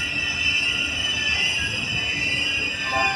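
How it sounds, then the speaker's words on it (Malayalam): An Ernakulam to KSR Bengaluru train rolls past close by with a loud, continuous rumble topped by a high, sustained squeal from the wheels. "ഇതാണ് ഒരു ട്രെയിൻ"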